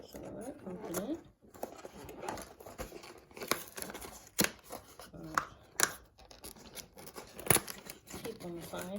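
A Diamond Dotz diamond painting kit package is opened by hand, with a run of crinkling plastic, tearing and snipping sounds coming in irregular close bursts, some loud and sharp, over faint background noise.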